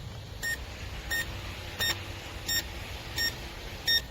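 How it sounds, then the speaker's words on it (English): A DEERC remote control boat sounds its low battery warning: six short, evenly spaced high beeps about every 0.7 seconds over a steady background hiss. "And it's beeping, so it's probably like the little battery warning"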